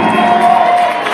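A live concert crowd in Seattle cheers and applauds for the band, a dense, steady roar of many voices and clapping that stays loud throughout with scattered whoops and shouts.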